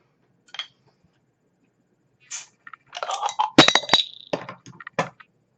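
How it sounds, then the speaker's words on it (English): A bottle cap is knocked into a drinking glass with IPA beer, giving a brief bright clink followed by a quick cluster of rattling glassy clinks and scrapes, close and clear against near silence. "I managed to knock the bottle cap right in the glass"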